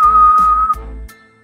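A person whistles a short, clear, high note that holds steady for under a second, followed by a couple of faint, brief whistle tones, close and loud with nothing else around it.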